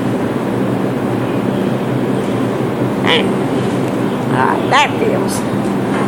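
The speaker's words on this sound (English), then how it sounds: "Look, I'll show you when the train is done." Subway train rumbling through Nevins St station in New York, a steady loud low roar of the passing 2 or 3 train, with a voice speaking briefly over it.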